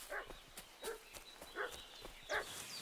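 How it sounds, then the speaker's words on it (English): A dog in the medieval game Kingdom Come: Deliverance 2 barks repeatedly in an even rhythm, about five sharp, fairly faint woofs at a moderate distance, with no talk over them. "What's that dog making such a fuss about?"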